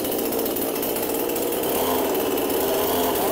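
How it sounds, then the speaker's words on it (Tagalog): A Powerhouse chainsaw with a loose chain runs at steady high throttle, giving a loud, continuous, buzzing rasp with no pauses and no voices. "Powerhouse na chainsaw rin po."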